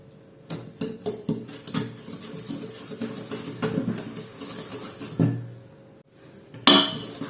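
A spoon clinks and scrapes around a bowl while vanilla and sugar are mixed for a light brioche, with irregular close taps, a louder knock near the end.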